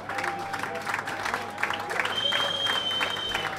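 An audience at the Mega Muzika Awards 2018 music ceremony claps for a presenter, a steady crowd applause with a few sustained tones and a faint voice beneath it.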